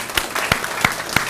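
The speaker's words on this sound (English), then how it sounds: "I think we need to give them a round of applause" Four sharp, evenly spaced claps ring out at a SkillsUSA kickoff event, honoring the faculty. They are moderately loud and have thin, spread-out room noise between them.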